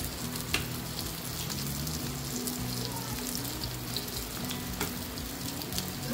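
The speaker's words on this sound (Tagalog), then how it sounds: "Tapos ang okra natin ay kumukulo na!" Okra boiling in a pot of water on the stove for adobong puti, a steady bubbling and sizzling churn that stays close and fairly loud throughout, with a few sharp clinks of a utensil against the pot.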